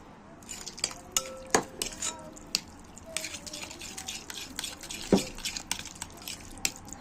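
Milk goes into a mixture in a bowl and is stirred, giving irregular close clinks of utensil on dish, light drips and wet squishing sounds, with no voices.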